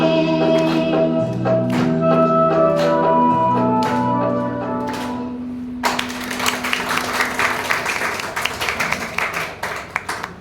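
At a Diwali programme in a hall, a song with sustained musical tones ends and is followed by a burst of audience applause for a little girl's dance. The clapping is loud, fairly close and continues through the second half of the clip.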